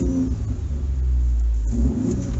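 Ford F-150 EcoBoost engine revving steadily, a loud, continuous low rumble that swells slightly with throttle, heard close up with no talking.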